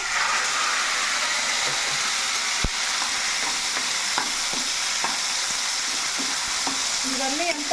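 A tomato-onion paste for an egg curry fries in a pan while it is stirred, a steady loud sizzle throughout with occasional scraping clicks of the spoon.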